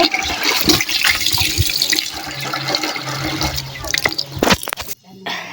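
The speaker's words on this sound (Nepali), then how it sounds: "ला पानी पनि पोख्यो हत्तेरिका" Water splashes and spills in a home kitchen or washing area, a busy run of splashes, drips and gurgles building to a sharp splash near the end, with a voice speaking over it.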